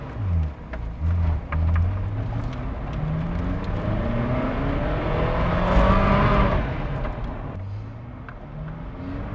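A classic Ferrari V8 revs and pulls steadily while the car is driven, a loud, continuous engine note with rising and falling harmonic sweeps as it accelerates and shifts, close and alone without talk.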